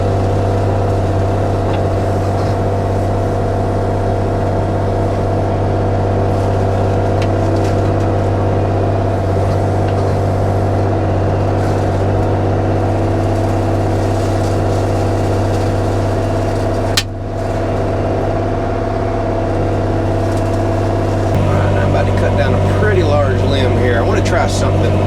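A Bobcat E35 mini excavator's engine drones steadily and loudly throughout, clearing overgrown vines and mulching limbs, with no distinct shredding bursts standing out.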